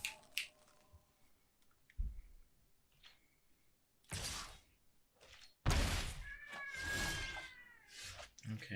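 A cat meows in a quiet room, with a few scattered thumps and knocks between the calls.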